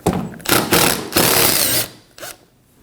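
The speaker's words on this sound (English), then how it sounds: "We're going to remove the screws from those as well on either side." A ratchet removing screws from a Ford Edge grille panel, loud close mechanical clicking and whirring in several bursts, then a brief final click.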